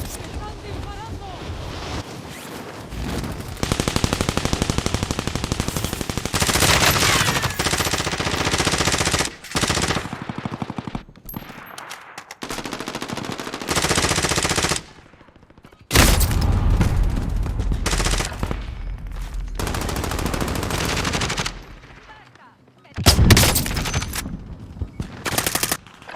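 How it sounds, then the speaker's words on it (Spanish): Bursts of video game gunfire, rapid machine-gun volleys and loud blasts in broken bursts separated by brief silences, with wind-like rumble between shots. "¡Están disparando!"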